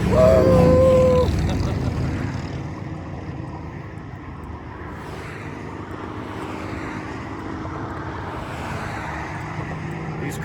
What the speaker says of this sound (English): These cars are moving.